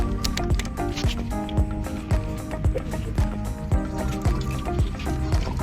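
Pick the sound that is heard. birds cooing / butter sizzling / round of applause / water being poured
water being poured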